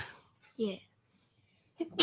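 A single sharp sneeze bursts out near the end, loud and close, after a short spoken word earlier amid quiet conversation.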